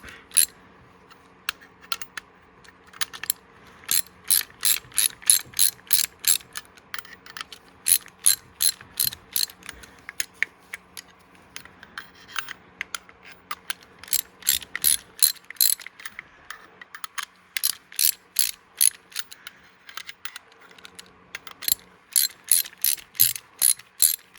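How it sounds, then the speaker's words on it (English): A ratchet tightening a YOTOO bearing puller on a crankshaft, giving close, rapid clicking bursts in repeated strokes with short pauses between them. "So we're gonna start tightening it up."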